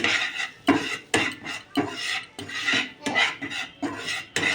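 A spoon stirs flour into melted butter in a pan while making white sauce pasta, giving a series of separate scraping and rasping strokes with short pauses between them, close and fairly clear.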